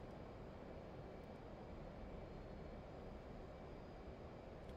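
F/A-18C jet in the DCS flight simulator game, a steady, even engine roar and rushing air that hold constant throughout at moderate level with no talk.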